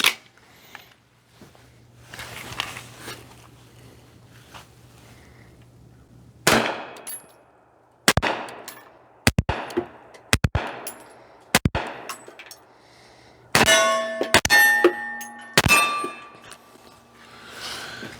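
Unsuppressed gunshots from a firearm with no suppressor can fitted: a series of sharp, loud cracks at uneven intervals, with metallic ringing clangs on the later shots, heard outdoors and alone.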